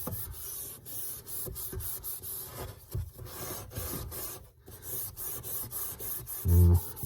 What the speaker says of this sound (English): So I'm just using these green Scuff pads.